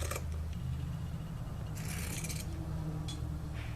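Scissors snip through fabric mask material in a few short, crisp cutting strokes over a steady low background hum.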